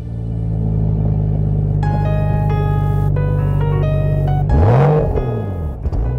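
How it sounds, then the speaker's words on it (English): A BMW 335 with its 300-horsepower turbocharged straight-six drones loudly and steadily from inside the car, a deep engine rumble with rising whine and a sweeping pitch change near the end. "The engine in this 335 is the familiar 300 horsepower turbo straight 6 we already know"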